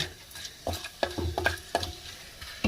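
Whole spices stirred in oil in a clay handi pot for vegetable pulao, several distinct close scrapes and knocks over a soft sizzle, no talking.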